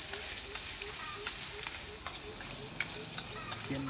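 Stink bugs crackle as they deep-fry in hot fat, a continuous close sizzle with scattered sharp pops and a faint high tone running underneath.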